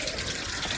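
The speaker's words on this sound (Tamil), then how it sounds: "இந்த தண்ணி எவ்வளோ அழுக்காக இருக்குது பாருங்கள்" Dirty water flowing steadily out of a water tank being cleaned, a continuous broadband rush of running water that stays even and fairly close throughout the short moment.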